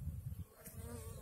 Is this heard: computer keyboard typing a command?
no